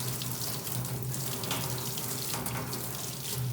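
Lukewarm water pours from a tap into a sink in a steady, close splashing stream that fills the basin. No one speaks.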